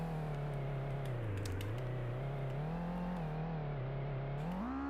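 Car engine in a Godot-built driving game revs steadily while the car drifts, a continuous droning tone that wavers and climbs near the end, with no talk over it.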